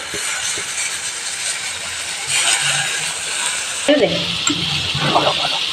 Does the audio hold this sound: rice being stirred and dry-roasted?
yes